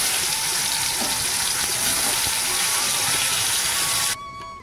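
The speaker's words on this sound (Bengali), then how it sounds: "এবারে মিষ্টি কুমড়াটা ভেজে নিচ্ছি।" Steady, dense sizzling and crackling of pumpkin frying in hot oil, loud and close, continuing without pause before cutting off abruptly near the end.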